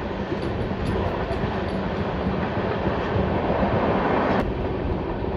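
A Lalkuan–Howrah passenger train rolls steadily along the track, a dense continuous rumble with faint wheel clatter, easing slightly for a curve on the run toward Pilibhit, with one brief sharp click near the end.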